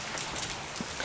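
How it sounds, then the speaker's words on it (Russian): Steady rain patters on surfaces in a continuous, even hiss, close and fairly loud, with no voices. "Так что пускай дождик идет."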